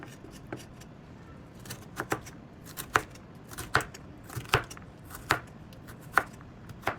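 A knife chops carrots into cubes on a board, giving sharp, uneven taps spaced roughly half a second apart, close and clear with no talking.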